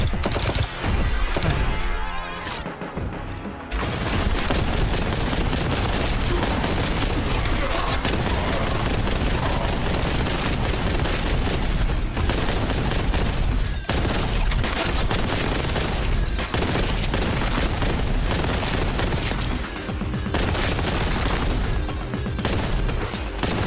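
Dense, nonstop gunfire from a Space Marine video game fills the whole stretch as loud, rapid automatic bursts and booming blasts with almost no pause, and no talk is heard.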